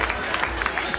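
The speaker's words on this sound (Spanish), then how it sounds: "Un aplauso para ella" Spectators at a cross-country race in Falces clap for a finisher, a short burst of crowd applause with a few sharper claps rising above the steady patter.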